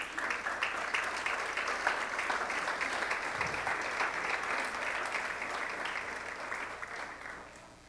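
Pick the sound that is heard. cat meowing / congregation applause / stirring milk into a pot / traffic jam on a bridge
congregation applause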